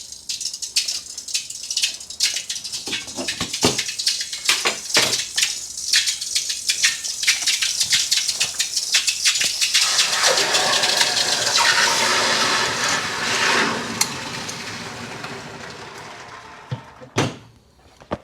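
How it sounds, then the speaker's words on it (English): Hot sterling silver bar plunged into water, giving a string of sharp crackles and pops followed by a rising, hissing sizzle that fades toward the end. "think the water was a little bit hotter at the start of this one, so it took a little bit longer for it to quench"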